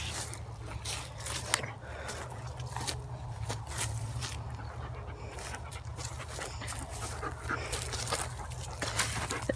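A dog moves about outdoors in the woods, panting and snuffling close by over a steady rustling background.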